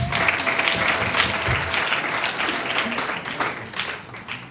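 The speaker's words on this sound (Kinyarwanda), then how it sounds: "Amashyi." Guests at a church wedding break into sustained applause, a dense, steady wash of clapping from a crowd that holds strong throughout and tapers only slightly near the end.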